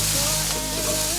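Dried tofu cubes tossed into a hot pan with red and yellow bell peppers and stir-fried, giving a steady, close, unbroken sizzle throughout with no voices.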